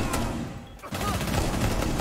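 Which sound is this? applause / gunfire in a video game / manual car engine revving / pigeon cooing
gunfire in a video game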